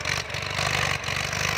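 A farm tractor engine runs steadily while pushing soil along a ditch to build a path into a rice field. Its close, loud throb has a fast low pulsing and a brief dip partway through.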